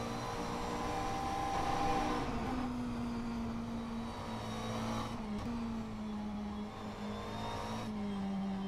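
Race car engine in a racing simulator droning steadily at a high, slightly shifting pitch throughout, loud and alone, with the tone rising and easing as the throttle changes.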